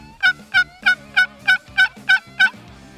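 Turkey pot call played with the lid kept on the striker surface, a run of eight evenly spaced, sharp yelps, close and loud, with no talking.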